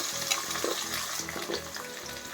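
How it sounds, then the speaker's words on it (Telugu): Broad beans fry in hot oil in a pan, giving a steady close sizzle and bubbling with a few soft stirring knocks. "ఇప్పుడు ఈ కాయను వేయించుకుందాం ఆయిల్లో వేసేసి మొత్తం ఫ్రై చేసేసుకుందాము"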